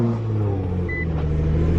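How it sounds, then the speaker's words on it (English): A Nissan GT-R that has sat unused for a while runs with a steady, loud low engine rumble, holding an even idle-like drone close by with no talking. "She hasn't been started up in a while, so let's hope"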